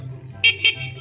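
A Motorstar Explorer 250 V2 250cc motorcycle sounds two short, bright beeps of its horn in quick succession over a low idle hum.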